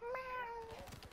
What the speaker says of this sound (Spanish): Yo pensé que eso era un gato,